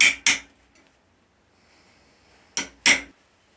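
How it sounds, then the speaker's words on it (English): Steel is cut away between the teeth of a hand-forged pricking iron in two pairs of sharp metallic strikes, one pair at the start and another near the end, close and loud with quiet in between. "now I'm starting to cut away the waste areas between the teeth."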